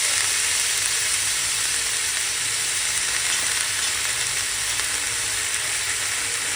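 Washed, finely chopped fenugreek leaves hit oil where garlic has browned to red, producing a loud, continuous hissing sizzle, close and unbroken, with nothing else over it.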